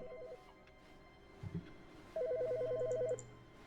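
A telephone rings in the video game The Stanley Parable, with one short electronic trill, a brief thump, then a longer warbling ring over a low hum, heard alone without speech.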